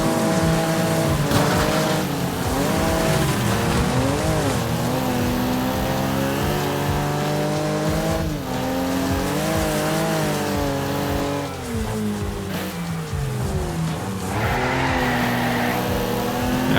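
Race car in The Crew 2 racing game, engine loud and continuous as it climbs and drops through the gears, with repeated rev rises and shift dips, tire squeal along the way.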